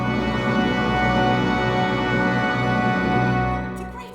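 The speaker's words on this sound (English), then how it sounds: "now Tchaikovsky's Romantic Orchestra sounds like this" A full symphony orchestra plays Tchaikovsky, sustaining a rich, swelling chord, strings and brass blending warmly before the sound tapers off at the end.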